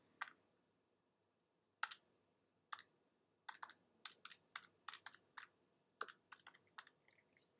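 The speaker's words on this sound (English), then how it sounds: "And type that in." Keys tapped on a computer keyboard while entering a z-score calculation, heard as scattered single clicks and short bursts of strokes, close and fairly soft, in an otherwise quiet room with no talk.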